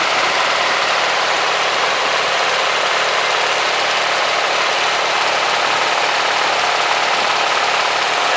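A tractor engine running with no float in its carburetor, a loud, steady idling rumble with a rough knocking edge that holds constant from start to finish, close up and alone.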